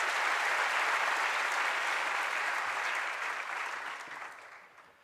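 A hall audience at SMA Taruna Nusantara applauds in a steady, dense wash of clapping that fades away over about five seconds, with no voices.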